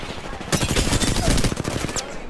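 Rapid automatic gunfire in Apex Legends fills the whole moment, a dense stream of closely spaced shots with no gaps, loud and close.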